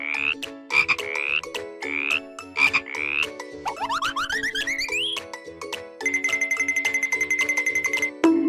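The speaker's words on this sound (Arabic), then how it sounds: "ضفدع ضفدع. Frog." Repeated frog croaks in a rhythmic series, clear and close, with a rapid rising trill midway and a fast pulsing croak toward the end.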